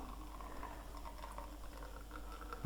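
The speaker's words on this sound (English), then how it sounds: "Oh, it is actually pre-infusing already and getting some drips." An Odyssey Argos spring lever espresso machine pre-infuses with a steady low boiling hiss and faint dripping, heard close and alone, with a small click at the end.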